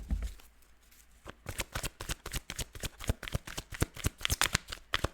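Tarot cards being shuffled by hand, a brief quiet pause giving way to a long run of rapid, crisp riffling flicks in close, steady succession, heard alone without talk.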